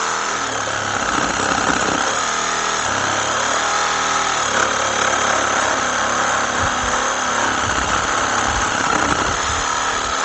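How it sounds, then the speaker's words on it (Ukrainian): A reciprocating saw runs steadily at high speed on its third speed setting, a loud continuous buzzing drone with a rough, vibrating motor tone and no pauses. "Да, вібрірує однозначно. Ну так це шабелька"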